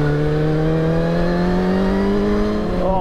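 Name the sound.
Suzuki GSX-R1000 motorcycle engine running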